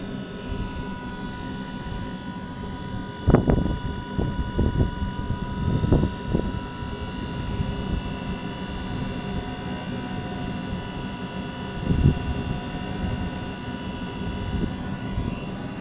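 A gas burner burning with a blue flame gives a steady broadband roar that swells in several louder bursts as more gas is fed in.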